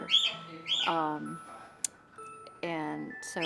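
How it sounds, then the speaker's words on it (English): A pet cockatiel gives a few bright, close chirps and rising whistled calls in short bursts, with brief pauses between, in an indoor art studio space. "that's my bird, who is a cockatiel"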